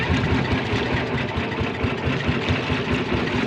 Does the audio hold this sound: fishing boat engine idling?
yes